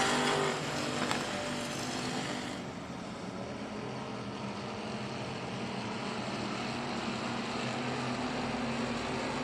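Factory stock race cars roar around the track at The Rev, engines droning loud and sustained, with a brief louder pass at the start before a steady, distant rumble.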